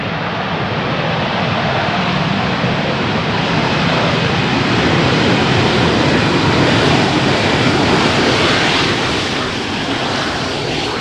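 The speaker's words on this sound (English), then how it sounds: "It is the daily Air France Hope Embraer 170 coming in from Rennes in France" An Air France Hop Embraer 170 arriving at Amsterdam Schiphol on runway 18R, a steady loud broadband engine roar sustained for the whole stretch, heard alone without voices.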